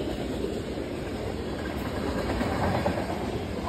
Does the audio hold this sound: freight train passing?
yes